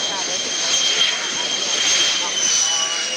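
A Nimrod aircraft roars overhead at the Biggin Hill air show, a loud, steady jet rush with a high whine running through it.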